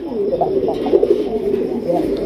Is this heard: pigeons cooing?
yes